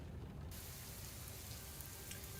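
Steady rain falling in the survival game Sheltered 2, a continuous even hiss of drops with no breaks and no voices over it.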